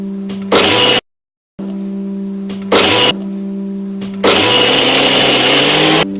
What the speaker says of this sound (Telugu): ఇప్పుడు మిక్సీలో తిప్పుకుంటాం మనం పచ్చళ్ళలో.